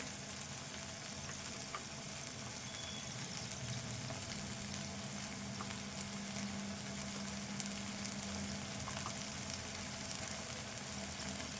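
Chilli powder goes into a masala curry with meal maker chunks frying in a pan, giving a steady, even sizzle and crackle that holds throughout without a break.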